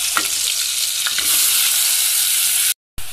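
Chopped onions going into hot oil set off a loud, steady sizzle and frying hiss that keeps up without a break, with a few stirring scrapes and a short drop-out near the end.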